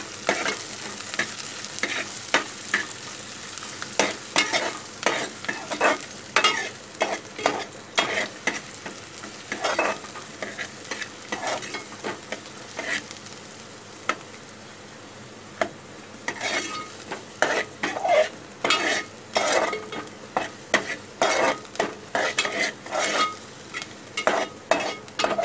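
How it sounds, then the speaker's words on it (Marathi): Onion sautéed and stirred in a pan for cabbage and chana dal bhaji, with repeated scraping strokes of a spatula over a soft sizzle, irregular and close, growing busier toward the end. "चांगला कांदा परतून घ्यायचा।"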